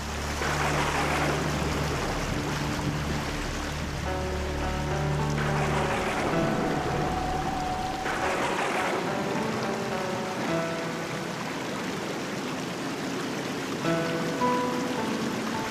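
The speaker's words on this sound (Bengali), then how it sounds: "বলতে বলতে বৃষ্টি শুরু।" Cartoon rain from a thunderstorm makes a steady hiss that runs the whole time, with tonal music drifting over it.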